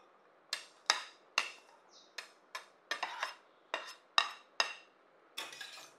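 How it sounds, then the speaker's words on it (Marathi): Onion for kande pohe is stirred in a pan with a spoon, giving about a dozen crisp metallic clinks and scrapes at an irregular, unhurried pace. They sound close and fairly quiet, with near silence between them. "आणि हा कांदा सुद्धा हलक्या गुलाबी रंगावरती परतून घेऊयात."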